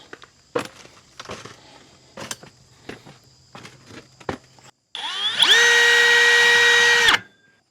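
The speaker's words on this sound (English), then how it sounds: "I hope my hole saws will cut it." A hole saw on a power drill cuts into thick steel during a mini split installation. A few scattered knocks and handling clicks come first, then a loud, steady whine for about two seconds before it stops abruptly.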